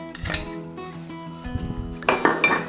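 A spoon scrapes and clinks against a metal pot while stirring brine for salting Baltic herring, in several quick bursts, close by, with brief quiet gaps between the knocks.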